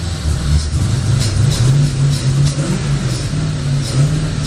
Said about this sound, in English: She doesn't want to rev at all.